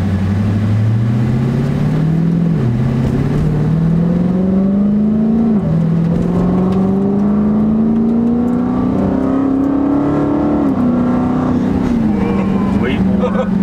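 Dodge Hellcat engine roaring while driving, a loud close growl rising in pitch through several gear changes with brief dips at each shift, continuous throughout.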